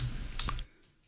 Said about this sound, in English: banging away at a keyboard